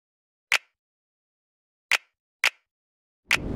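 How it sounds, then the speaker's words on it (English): Snap clap sample from an FL Studio trap beat: four crisp, dry snap-clap hits spaced irregularly, each a short bright crack with silence in between, the last one running into other beat sounds. "I started with a snap clap, and that sounds like this."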